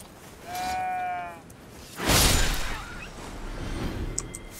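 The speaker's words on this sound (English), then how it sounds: "I see a fearsome level 10 sheep" A sheep in the video game Elden Ring gives one clear, wavering bleat, followed by a louder burst of game noise and a quieter ambient bed.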